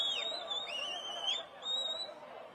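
Whistle blown repeatedly in a crowd at a Tamil election campaign rally, several sharp shrill blasts with falling and level pitches, fairly near over faint background chatter.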